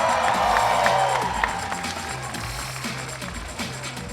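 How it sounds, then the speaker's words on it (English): A crowd at a cosplay championship at Comic Con Africa claps and cheers loudly. The sound is a dense burst that tapers off over a few seconds. "Huge round of applause."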